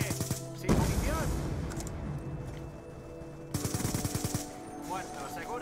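Rapid automatic gunfire rattles in bursts in a first-person shooter match, loud and close, with in-game voice callouts over the shooting.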